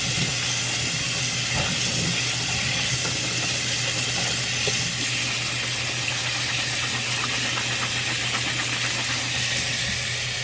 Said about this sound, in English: So I'm just going to rinse everything out really nicely.